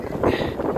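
Gusting wind on a sailboat on Lake Superior in rough conditions, a brief loud rush of broadband roar buffeting the microphone, with no clear voice.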